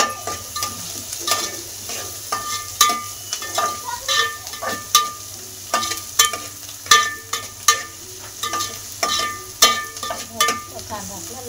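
Chopped onion frying in a pan for a dry chicken curry, a steady sizzle broken by repeated sharp metallic clinks and scrapes of a spoon stirring against the pan, close and clear.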